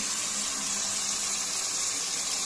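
Tap water pours steadily into a bathroom sink being cleared of a clog, a constant close hiss and splash running without break and fairly quiet, with no talk.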